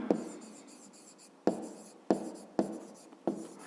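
Pen strokes writing out a solution to a fifth-grade math problem about a rectangle's width and length, sounding as five sharp scratchy bursts, each tapering off, close and clear with no talking.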